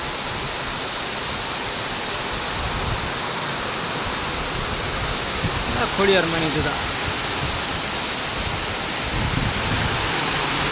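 Heavy rain pours down in a steady, dense roar that fills the whole stretch, with a voice briefly speaking over it midway.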